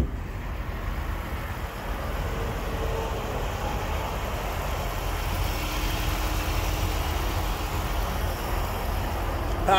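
A 2015 Honda CR-V with a 2.4 liter four-cylinder engine idles steadily, a low, even rumble with no change in pitch, close and continuous with no talking.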